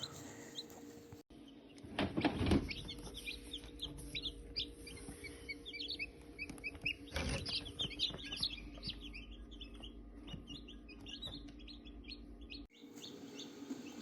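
Newly hatched chicks peep in a steady run of high, rapid chirps close by, with some louder fowl calls mixed in and brief pauses at the start and end.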